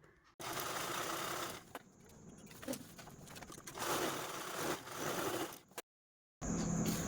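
A sewing machine stitches purse belts in bursts of rapid mechanical chatter, with short pauses between runs and a brief silent gap near the end.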